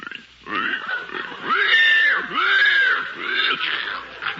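A prize-winning pig grunts and squeals loudly and close while being fed, in a run of drawn-out, rising and falling calls with short pauses between them.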